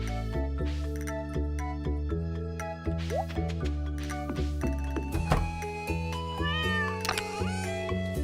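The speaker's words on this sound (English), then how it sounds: "He's a kitty." Short cartoonish cat meows from the Stardew Valley farming game chirp now and then over a steady backdrop of plucked, bell-like game music, with no talking.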